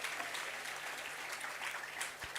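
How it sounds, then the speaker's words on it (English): An audience at a degree certificate distribution ceremony claps in a dense, steady round of applause, a broad wash of hand claps lasting throughout at moderate, slightly distant loudness. "Can we have a huge round of applause for Mr. Rahul Jain?"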